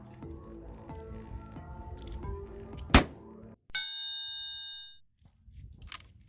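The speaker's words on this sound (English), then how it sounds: "That's the gong" A rifle shot strikes a steel gong target on an outdoor range: one sharp crack, then a bright ringing metallic tone that hangs for over a second before fading, with faint low background noise around it.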